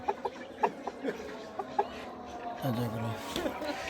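Tiger breed chickens cluck in short, repeated bursts close by, then a person starts talking over them.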